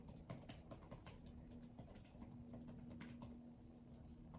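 Someone types a message on a computer keyboard, producing a steady, fairly quiet run of rapid key clicks with no talking.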